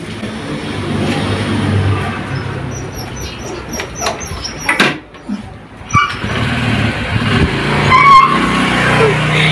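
Motorbike pulling up at a home, its engine rising and falling close by before idling steadily, with birds chirping in the background.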